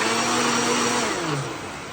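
A blender whirs steadily with a low motor hum and a churning wet tone that shifts in pitch near the end, blending animal brains for tanning buckskin.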